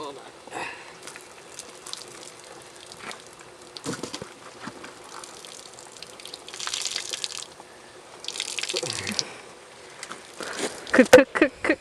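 Water sloshing and pouring out of a snowshoeing boot outdoors in winter, in a few short gushes and splashes amid talk and background noise.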